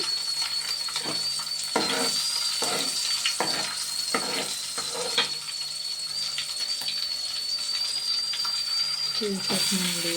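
Small-cut vegetable pieces for a curry fry lightly in a pan, with a series of scraping stir strokes over a steady soft hiss and a thin, constant high whine.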